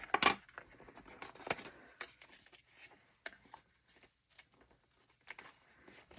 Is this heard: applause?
no